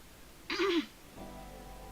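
A single short, sharp sneeze, close and fairly loud, bursting out over quiet background, followed by a faint low hum.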